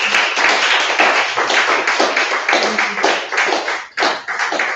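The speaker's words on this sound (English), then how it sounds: "Let's have a really good round of applause for Rescue" Audience applause at a poetry festival in Jersey, a loud dense burst of many hands clapping continuously, briefly dipping near the end before resuming, with no talking.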